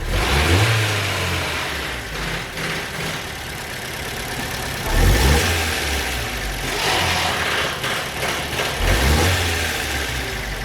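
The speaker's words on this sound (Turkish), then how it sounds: "Şu an gazda. Gaz yemiyor. Ufaktan bir tekleme gibi bir sıkıntı var." A Fiat Palio 1.2 engine that has overheated, revving loudly and repeatedly with surging rises and dips, hesitating slightly like a misfire, close by with no voices.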